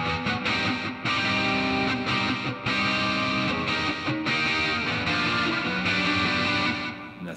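An electric guitar is played through an overdrive pedal with chorus, dense sustained distorted chords that ring loud and unbroken, with brief dips between strums.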